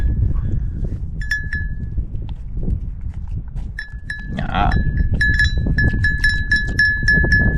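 A goat being offered Danish sea salt, with several short bleat-like calls near the start and a run of repeated harmonic calls in the second half over steady low outdoor rumble and shuffling.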